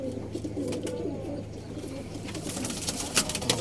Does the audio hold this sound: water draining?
no